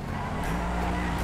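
A car races fast in the video game GTA V, its engine droning steadily with a brief tire squeal or skid, loud and close throughout.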